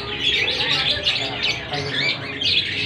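A white starling chirps and warbles continuously in bright, rapid phrases, fairly close and loud, with no talking.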